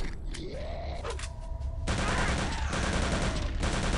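Gunfire in the video game Return to Castle Wolfenstein, a few sharp shots early, then a steady rattle of automatic fire that runs loud and continuous to the end.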